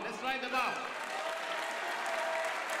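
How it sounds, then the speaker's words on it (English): Applause from an audience for music students taking a bow at a music academy recital, steady and fairly soft, with voices talking over the start. "Give a round of applause so they can bow."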